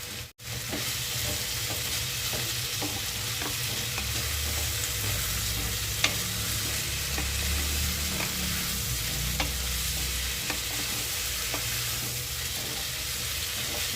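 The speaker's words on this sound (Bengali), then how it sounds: "আর একটু নাড়াচাড়া করে নামিয়ে নেব।" Snake gourd frying in oil in a pan, stirred as it softens: a steady close sizzle with repeated scraping strokes of the spatula, a brief knock at the start, no voices.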